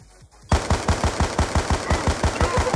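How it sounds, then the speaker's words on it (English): A sentry gun fires in Call of Duty Black Ops 2 multiplayer Domination in the Plaza, a loud, close, rapid string of evenly spaced automatic shots that starts abruptly after a brief quiet lead-in. "Whoever put that sentry gun there, that was a good one."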